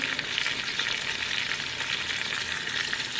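Onion paste hitting hot oil with fried fish heads in a pan, a steady dense sizzle and frying hiss with faint stirring, close and continuous for the whole stretch.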